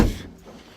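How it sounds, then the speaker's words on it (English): A single heavy thud of a Dodge Challenger's door being slammed shut in the cold, close by and loud, fading quickly with no talk. "You kind of gotta slam the door a little hard."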